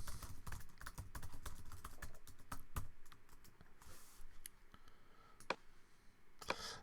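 Rapid, dense clatter of typing on a computer keyboard while a website heading is edited, keys tapping in quick uneven bursts with a few louder clicks, steady and close throughout.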